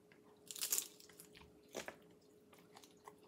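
Someone takes a bite of a nacho chip loaded with sour cream, meat, cheese and onion, giving one crisp crunch followed by quieter, close, moist chewing sounds.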